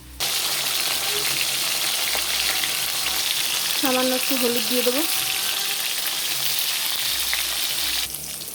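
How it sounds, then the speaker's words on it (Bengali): Salted pointed gourd fries in hot oil in a wok, a loud, unbroken sizzle heard up close, with someone briefly speaking partway through. "এবার আমি পটলগুলো ভেজে নেব"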